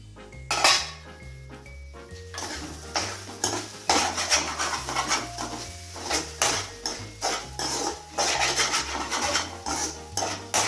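A spoon scrapes and clinks against a pan while egg and drumstick leaves are stirred for a stir-fry, in steady close scraping strokes with metallic taps throughout.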